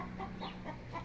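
Farm chickens, ornamental fowl suffering through a drought, cluck softly and repeatedly at a distance, a few short murmured calls over a quiet background hum.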